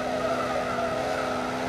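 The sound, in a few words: Volkswagen Saveiro pickup skidding after pulling the handbrake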